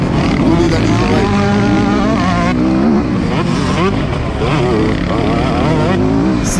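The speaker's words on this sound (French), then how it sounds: "Toujours la 125 qui vient me donner dans les oreilles." A 125cc motocross motorcycle, over twenty years old, races on a prepared meadow track, its engine revving loudly and continuously with rising and falling pitch as it shifts, while someone talks over it.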